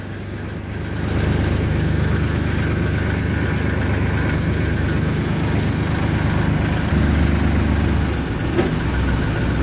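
A tractor engine hauls a sugarcane trolley toward a sugar mill in winter, a loud steady low diesel drone that holds through the whole stretch and thickens briefly as load changes, with no talk.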